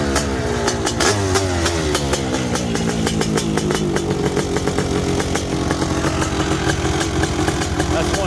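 A big-bore Honda CR500R two-stroke motorcycle with a python exhaust pipe revs hard at a hill climb event, a loud, close, continuous howling engine note with voices in the crowd around it.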